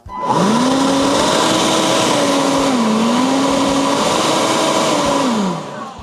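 Dnipro-M cordless leaf blower in turbo mode, a loud steady whirring roar of fan and airflow with a high whine that dips and rises slightly, running close for about five seconds before winding down.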